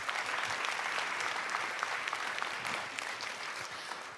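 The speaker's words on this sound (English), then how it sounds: "Let's give everyone a round of applause." Audience applause at a youth climate summit session, steady sustained clapping from a large crowd filling the room for several seconds without speech.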